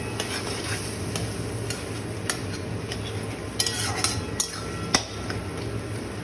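Prawns stirred in a mustard-poppy seed paste with green-chili yogurt, oily spice sizzling steadily with a few sharp clinks and scrapes of a spoon against the pan.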